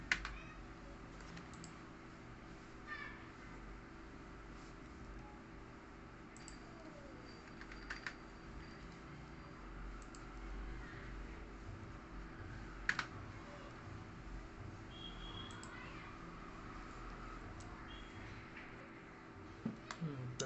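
Typing on a computer keyboard while working in an Excel spreadsheet, with quiet, scattered key taps and occasional sharper clicks over a low, steady room hum.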